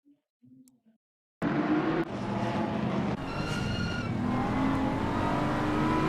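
Race car engine from an Assetto Corsa Competizione replay at Bathurst, a BMW running wide into turn two: a loud, steady engine roar that starts abruptly after near silence, with gear-change breaks and a sustained high tone.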